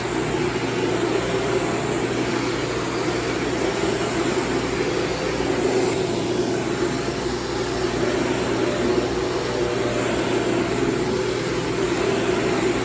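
A Shark APEX vacuum cleaner runs at full suction on carpet, giving a steady, loud, unbroken roar with a high whine on top. It holds constant for the whole stretch, with no voices over it.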